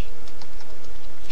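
Typing a terminal command on a computer keyboard: a quick, steady run of close, crisp key clicks with no talk over them.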